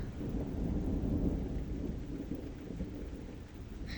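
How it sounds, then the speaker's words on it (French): Steady rain pours down with deep rumbling thunder rolling beneath it, a dense, continuous storm wash with no voices. "ça c'est vraiment un orage très actif"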